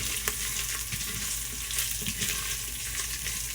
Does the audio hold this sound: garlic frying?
yes